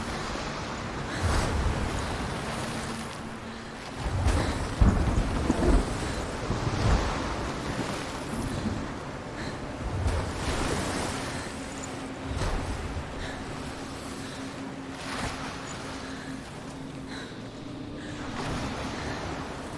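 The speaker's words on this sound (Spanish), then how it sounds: "Mira cómo golpean las olas allá a 2 FPS." Waves crash along a shore in the Hellblade video game, a series of rolling surges about every few seconds with wind noise between them. The sound is fairly loud and steady, and no one speaks.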